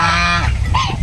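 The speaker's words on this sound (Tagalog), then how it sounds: "dito rin yung aking mga gansa." Farm geese kept in a pen near a poultry enclosure honk loudly and close by, one drawn-out nasal call followed by shorter overlapping honks from the flock.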